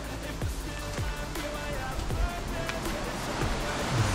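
A river in Val Pellice near the French border rushes with a continuous broadband roar of flowing water, steady and fairly close, with some low thumps underneath.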